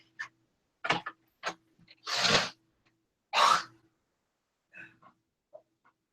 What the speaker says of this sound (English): I gotta go blow my nose